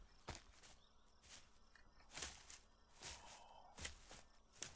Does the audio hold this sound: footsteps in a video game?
yes